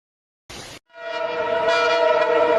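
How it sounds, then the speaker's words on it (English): A train moves through flooded, submerged tracks, a brief burst of noise followed by a loud, steady, tonal horn blast that holds for nearly two seconds. "Train moves through submerged tracks, sending water splashing dramatically into the air."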